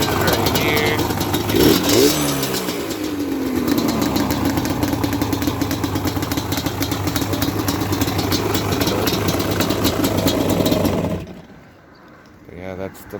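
A Yamaha Banshee ATV engine idles steadily up close, a loud, even burbling drone with a brief rise early on. The engine cuts off near the end, leaving near quiet.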